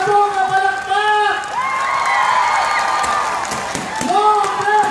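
Audience members in Victoria applaud and whoop for Noven Belleza in a constant, dense roar of clapping and cheering, with a voice speaking loudly on top throughout.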